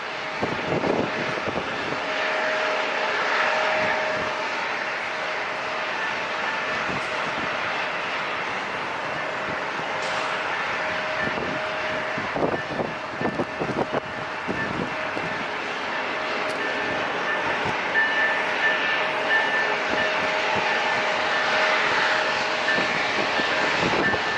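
An airliner takes off from San Diego International Airport, its jet roar steady, broad and moderately loud for the whole stretch, with no voices.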